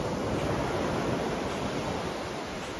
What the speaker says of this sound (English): Absolutely calm ocean out here with about 1 foot waves.